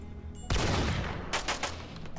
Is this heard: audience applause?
no